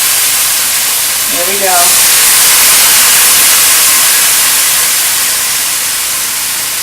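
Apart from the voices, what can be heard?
wine deglazing a hot pan of beef, sizzling steam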